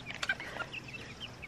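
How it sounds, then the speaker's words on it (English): Chickens clucking outdoors, a few soft, short clucks and calls scattered over a second and a half, faint and somewhat distant with no talking. "Peter, he's been wanting to get these chickens outside for a long time."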